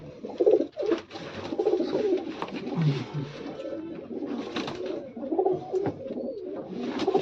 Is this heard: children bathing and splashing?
no